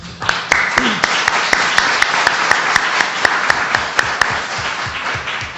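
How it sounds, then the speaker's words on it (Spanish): Audience applause at the close of a legal talk on inheritance, wills and incapacity, a steady wash of many hands with a few sharp nearby claps standing out, loud and sustained for several seconds without speech. "por favor, que le demos un aplauso"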